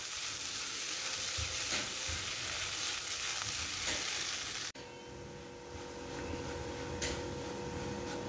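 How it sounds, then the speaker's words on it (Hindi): Moong dal roasting in ghee in a pan, a continuous close sizzle that dips briefly partway through, then resumes slightly softer with no talking. "जब तक घी पूरा साइडों से नहीं आ रहा जब तक अपन भुनते रहेंगे इसको"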